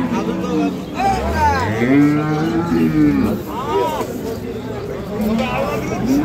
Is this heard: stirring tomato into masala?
no